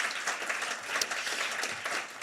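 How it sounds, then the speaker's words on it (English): A forum audience applauds its sponsors with brief, steady clapping from a mid-sized crowd, even in loudness throughout. "so let's give them another round of applause."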